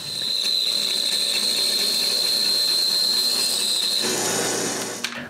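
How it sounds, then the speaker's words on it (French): A wooden circle for a nutcracker base is cut by machine: a steady, hissing whine with a high ringing tone runs throughout, then shifts and roughens near the end before a brief knock. No one speaks. "Je commence par couper un cercle."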